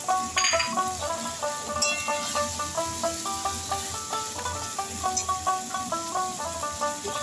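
Tomatoes hit hot oil in a pan for a jackfruit curry, and a steady sizzle and crackle runs under clinking utensils and stirring, with faint background music.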